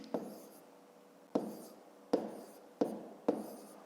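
Numbers being handwritten during a fifth-grade maths multiplication exercise produce five distinct, quiet pen strokes close by, spaced irregularly with soft scratching between them.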